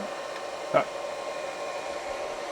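An AWT 100A handheld 110V flux core MIG welder runs steadily while feeding wire, a constant close whirring hum with one brief click partway through and no voices.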